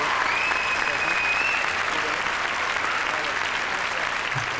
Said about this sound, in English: Give them a round of applause because they deserve it.